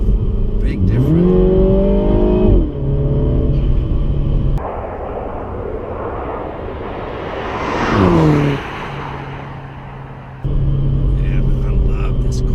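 A Mini Cooper S hatchback in sport mode revs hard, its engine note climbing sharply through the gears in rising sweeps, dropping back to a steady idle hum between pulls, loud and close as if heard from inside the cabin.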